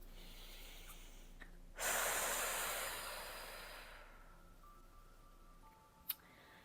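A person takes one long deep breath out close to the microphone during a guided breathing meditation, a strong airy rush that slowly fades over a couple of seconds, followed by quiet.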